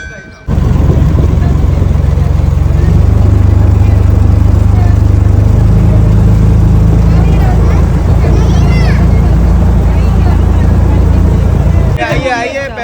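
A passenger launch boat's engine runs with a steady loud low rumble throughout, heading out toward the Umananda temple, with crowd chatter and voices talking over it near the end.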